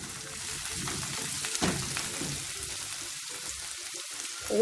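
Onions frying in a pan for potato rice, a steady close sizzle with soft crackles and occasional stirring scrapes, no talk over it.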